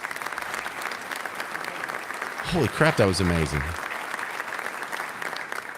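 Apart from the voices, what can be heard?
audience applause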